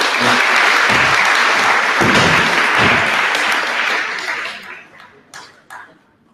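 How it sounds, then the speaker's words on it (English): Applause for two candidates at a student common room meeting, loud and full at first, then thinning into scattered claps and a few chuckles as it fades out. "Can we give a round of applause to both the candidates?"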